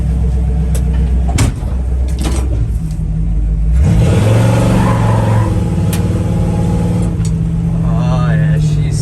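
A 1961 Chevrolet Apache pickup engine revs up loudly on a drive, then settles into a steady, close, rumbling run with rising and falling throttle.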